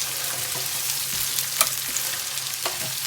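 Garlic for an Italian-style garlic soup sizzles steadily in a pan over turned-down heat, a dense, continuous frying hiss close by with a few faint stirring scrapes and no voices.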